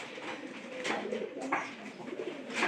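Pigeons, one weakened by the cold, coo nearby in soft, repeated throaty calls with faint chirps, loud and clear with no talking.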